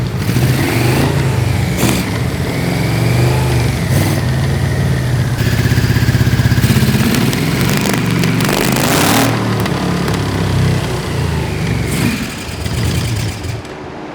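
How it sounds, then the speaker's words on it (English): A Yamaha VMAX motorcycle engine runs loudly and steadily on its first start after revival, its pitch shifting slightly as it holds revs, with a few sharper bursts along the way. "The engine sounds good. It's starting to sound better."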